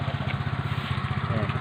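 Engine of a farm machine running close by, a rapid even chugging putter at steady idle with a loud low throb, heard alone.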